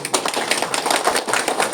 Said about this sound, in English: Kindly give a huge round of applause